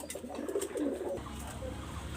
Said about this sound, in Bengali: এখানে একজোড়া কবুতর আমি দেখাচ্ছি